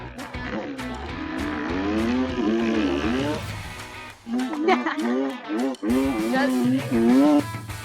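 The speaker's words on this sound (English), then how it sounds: "what kind of Dirtbike Dad's video would this be if there wasn't Wheelie Guy tearing up a hill climb" A dirt bike on a desert hill climb, its engine wailing up and down in rising revving sweeps, cutting out briefly between bursts, with talk in between.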